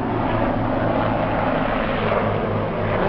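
Steady low rumbling drone of helicopters passing overhead near the water, continuous and moderately loud without speech.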